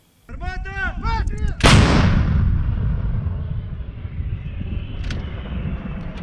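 A single loud blast from an M777 howitzer booms out, followed by a long rumbling echo that slowly fades; a few voices and faint chirps can be heard before the shot.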